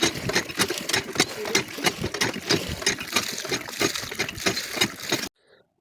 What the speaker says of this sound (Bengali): আমি কল টিপে টিপে নৌকার ভেতর থেকে জল নদীতে আবার বার করে দিচ্ছি